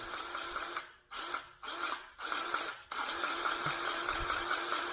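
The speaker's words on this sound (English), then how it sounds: "Pull the trigger, and it'll pump grease into that housing." A grease gun pumps grease into a housing: several quick mechanical strokes with brief gaps between them, then a continuous steady whir, close and fairly quiet.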